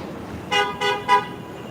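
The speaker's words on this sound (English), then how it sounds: "What's he honking for? Honk, honk, honk." A car horn on a New York City street sounds three short, loud blasts in quick succession over low traffic hum, fairly close by.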